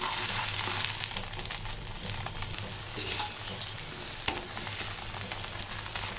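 Wheat flour dosa cooking on a hot pan, a steady close sizzle with light crackling and occasional metallic clinks of a spatula.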